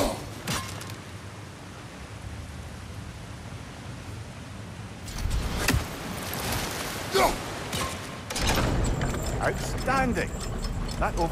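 Water-driven wheels and a train mechanism turn in God of War Ragnarök, giving a steady mechanical churn with ratcheting, gear-like clicks over rushing water that grows busier and louder partway through.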